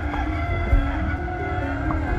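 A rooster crows inside the video game Vasilisa and Baba Yaga, a single drawn-out call over steady game music and ambience.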